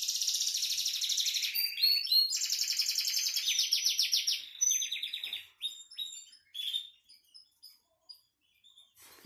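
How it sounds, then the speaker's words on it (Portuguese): A single canary delivers a loud, close song of rapid rolling trills and buzzy runs for several seconds, then breaks into shorter scattered phrases with pauses between them. "Ó, o canário tá cantando aí"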